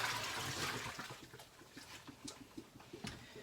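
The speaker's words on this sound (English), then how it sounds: "All I have to do is rinse this." Water runs and splashes as a deluxe cooking blender jar is rinsed out, a steady close rush of tap water with small gurgles and dribbles, no talking.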